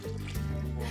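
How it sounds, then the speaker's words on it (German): Water is poured onto sugar in a candy workshop to make eight kilos of rock candy mass, a steady close trickle with a low humming tone beneath it and no talk. "Zum Zucker gießt Henriette noch Wasser"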